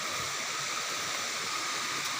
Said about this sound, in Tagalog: So ito yung sapa.